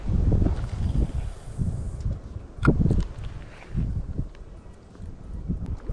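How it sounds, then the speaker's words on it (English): Gusty wind outdoors ahead of an incoming storm front, buffeting in uneven surges with a sharp rustle or knock midway, fairly close to the microphone, no talk. "It's getting windy as a storm front comes in."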